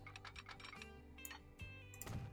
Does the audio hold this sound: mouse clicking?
yes